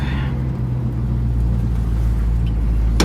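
A 1964 Chevrolet Malibu SS with a V8 engine drives out on a test drive, a loud, steady low engine rumble and road drone filling the whole stretch.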